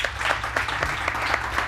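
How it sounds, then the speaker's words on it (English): A talk show studio audience claps for a guest, a short burst of steady, evenly paced applause with a low hum beneath it. "Let's give her another round of applause."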